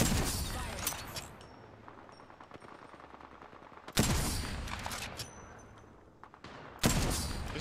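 Gunfire from a distant fight in Apex Legends, with sharp bursts of shots at intervals over quieter background crackle and scattered pops.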